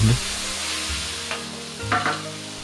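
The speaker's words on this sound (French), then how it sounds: "ajoutez la viande, la sauce soja, le poivre, mélangez encore 30 secondes" Pork strips stir-fried with sweet peppers, soy sauce and pepper give a loud sizzle broken by scraping stirs and clatter of a utensil against the pan, close up and without speech.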